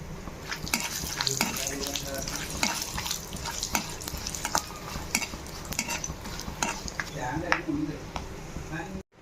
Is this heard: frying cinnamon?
yes